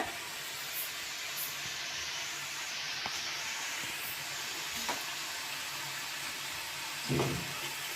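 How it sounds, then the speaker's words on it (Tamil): Steady, faint hissing sizzle of murukku dough frying in hot oil in a small pan over low heat runs throughout, broken by occasional soft clicks and a brief scraping touch near the end. "ஒன்று ஒன்றா புளிஞ்சு புழிஞ்சு இப்படி எண்ணெயில் போட்டுக்கிடுவோம்"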